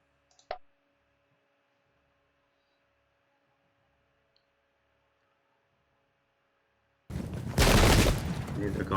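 Musket volley fire in Pike and Shot Campaigns, a Gustavus Adolphus battle: near-silence broken by a single sharp click, then a loud, dense, sustained crackle of massed shots that runs to the end.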